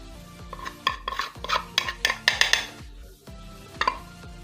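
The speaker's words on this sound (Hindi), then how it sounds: "चलें जी, अब चिकन को मसाले लगा देते हैं सारे" Chicken being mixed with spices for a marinade in a metal bowl or pan, with scraping, clinking stirring strokes in an uneven rhythm, close and clear with no talking.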